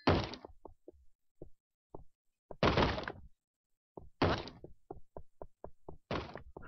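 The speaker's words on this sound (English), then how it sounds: "Why do I hear a door being pounded when there's no damn door around?" Heavy pounding bursts like fists on a door in the Minecraft game, several loud close thumping clusters separated by pauses and scattered lighter knocks, with no voices.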